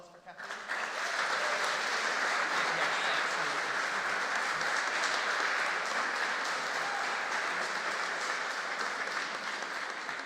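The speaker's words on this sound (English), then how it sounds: "Give a round of applause for Kathleen." A hall audience at a college graduation ceremony applauds a presentation, steady sustained clapping that swells quickly and holds for about ten seconds, with voices faintly mixed in.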